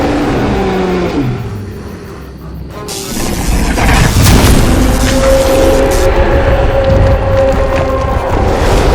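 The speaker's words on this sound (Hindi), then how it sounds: "ट्रैक्टर भी शुरू हो गया था" A tractor engine starts in an animated horror comic: after a quieter stretch, a loud, rough rumble swells up with booming crashes and then settles into a steady, heavy drone.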